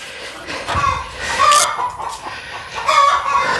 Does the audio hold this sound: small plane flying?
no